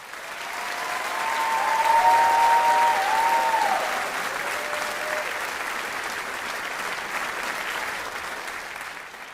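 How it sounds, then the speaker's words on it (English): Crowd applause for the graduating class of 2024 at the Folsom Lake College commencement, a broad sustained wash of clapping that swells and then holds steady, with a faint voice briefly heard over it. "Please join me, everyone, in giving another round of applause to our class of 2024."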